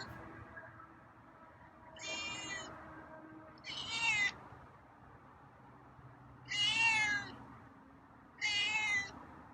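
A feral cat meows four times in separate, clear calls spaced a couple of seconds apart, close and fairly loud over a quiet indoor background.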